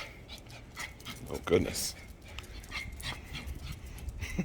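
An excited dog pants and whimpers with a few yips close by, mixed with a person's short spoken remarks over a steady background.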